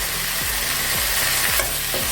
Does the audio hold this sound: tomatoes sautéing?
yes